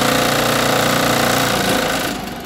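Homemade apple grinder for cider-making spinning at 1700 RPM, a dense, loud mechanical whir with a rapid rattling pulse that holds steady, then eases off slightly near the end.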